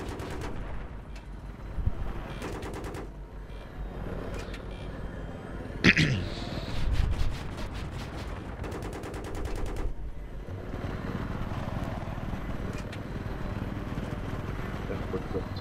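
Gunfire in the Battlefield 3 co-op mission Fire from the Sky, bursts of automatic fire and a sharp blast over engine rumble, mid-distance and intermittent while players talk.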